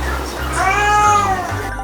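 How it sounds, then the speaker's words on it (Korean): A pet cat meows insistently outside a closed door at home, giving one drawn-out, rising and falling cry, close and clear over a low background hum. "애타는 야옹 소리에 결국 다시 문이 열립니다."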